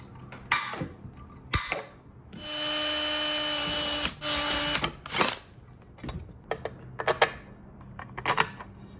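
A power drill bores holes in a bumper plate for a Honda 400EX quad, with short whirring bursts and one sustained drilling run midway, surrounded by scattered clicks and tool handling nearby.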